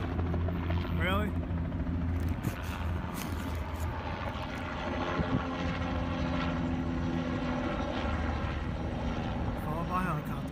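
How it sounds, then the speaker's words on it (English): A helicopter circles overhead with a steady rotor throb and engine drone that persists loudly throughout, while someone talks over it at times. "Followed by helicopters."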